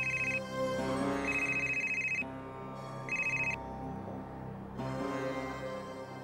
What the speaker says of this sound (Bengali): ফোনটা বেজে যাচ্ছে